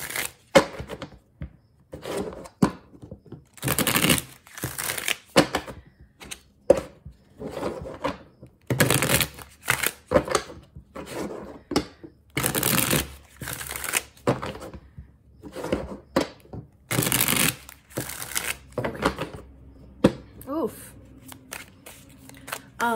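A deck of tarot cards is shuffled over and over in loud, rapid riffling bursts separated by brief pauses, with someone talking in between.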